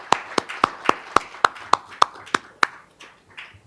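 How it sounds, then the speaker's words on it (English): Audience applause for speakers at an academic symposium on AI in the humanities and social sciences: about ten sharp, evenly spaced claps, close and distinct, thinning out and fading near the end. "So let's give all the speakers another round of applause."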